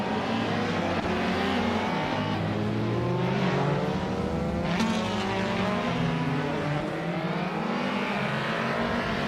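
A 2016 Volkswagen Jetta in a racing video game runs a steady engine drone with shifting revs throughout, several cars close together, loud and continuous with no talk.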